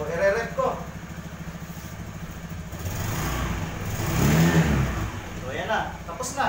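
A Honda Beat carburetted scooter engine runs close by and revs up in a few swells after cleaning and maintenance, with someone talking over parts of it.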